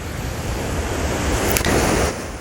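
Ocean waves roll onto a beach at low tide, a steady broadband wash with a swelling surge near the end, close and continuous with no voices.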